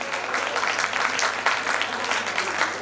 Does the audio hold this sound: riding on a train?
no